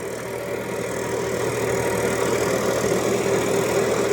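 A New Holland 3600-2 tractor engine labours under load during a field demonstration, giving a steady, loud, continuous mid-pitched drone with a faint rhythmic throb and no pauses.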